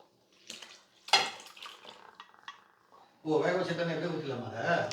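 Splashing and sloshing as cooked goat head meat with its cooking water is tipped into a pan, followed by a steady pour or sizzle of liquid, with a voice talking early on.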